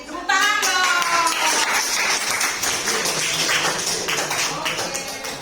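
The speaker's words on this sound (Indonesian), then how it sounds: "Tepuk tangan dong." Applause from a classroom of students during a counseling lesson, a dense crackle of many hands clapping together, loud and sustained, with some voices mixed in.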